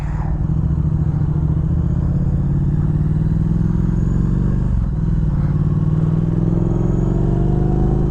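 A Triumph Thruxton R motorcycle fitted with British Customs exhaust pipes idles with a loud, steady, deep rumble that holds throughout, with a brief dip midway before the engine resumes its throaty burble.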